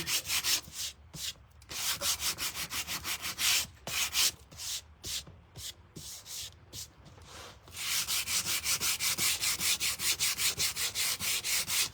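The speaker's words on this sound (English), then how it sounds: "I'm kind of going in a little more with the sanding" Rapid back-and-forth rasping of sandpaper on painted wood, steady and close, pausing briefly midway before resuming in a fast, even rhythm.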